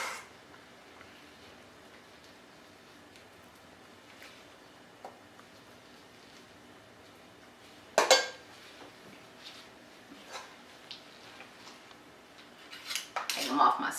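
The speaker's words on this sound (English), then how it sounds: "Take them off my spoon here." Baby potatoes slid off a metal spoon, making a few sharp metallic clinks and scrapes, the loudest near the middle and a cluster toward the end, over a quiet kitchen background.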